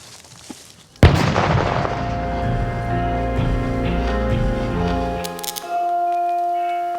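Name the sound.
controlled explosion blowing up an object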